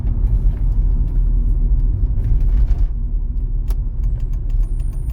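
A car drives a Cherkasy driving-exam route, shifting up through second and third gear, with a steady, loud engine rumble and road noise throughout, plus a brief light rattle near the end.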